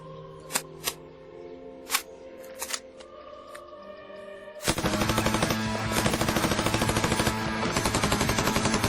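A general purpose machine gun (GPMG) in a Battlefield 2 game opens up after a few scattered clicks and single shots, firing a long loud, rapid continuous burst for about four seconds.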